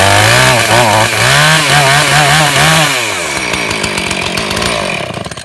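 A Husqvarna 450 Rancher chainsaw engine revs and idles up close, loud and buzzing with wavering pitch before settling into a rougher, sputtering run.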